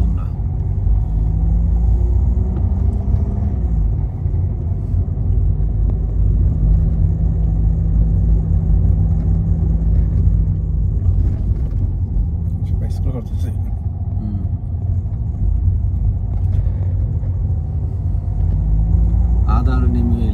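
A car on an evening driving lesson rolls steadily ahead, with a loud, constant low engine and road rumble from inside the cabin, a few faint clicks and knocks, and people talking over it.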